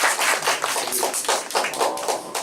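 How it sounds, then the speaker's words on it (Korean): A church congregation claps together during a Korean service, a dense, rapid patter of many hands that continues unbroken throughout, fairly close and without talk. "우리 박수 한번 쳐줍시다"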